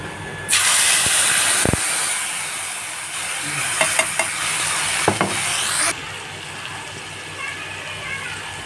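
Ground masala paste added to a hot pan for matar paneer, bursting into a loud hissing sizzle that holds for about five seconds before dying away. A few spoon knocks and stirring sounds come through the hiss.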